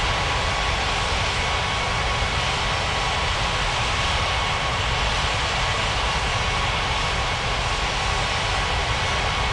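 An airliner roars steadily on takeoff in the Unmatched Air Traffic Control game at Capeville International, a loud, continuous broadband jet engine rush that holds without a break for the whole stretch.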